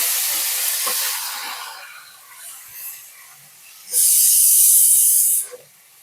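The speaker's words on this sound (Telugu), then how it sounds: "ఇరగమాత గింజలు వేగినాక మనం చిక్కుడుగాయలు వేసుకోవాలి" Broad beans drop into hot oil with tempering seeds and set off a loud hissing sizzle. It fades, then flares into a strong, bright burst before dying down again, close and with no talk.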